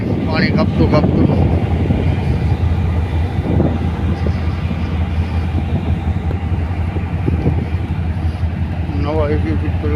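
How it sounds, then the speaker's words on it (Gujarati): A ro-ro ferry ship moves through calm sea water, giving a loud, unbroken rumbling drone of engine and rushing water along with wind buffeting the microphone, while a person talks over it. "અમારું જહાજ આગળ હાલે છે. પાણી કાપતું કાપતું"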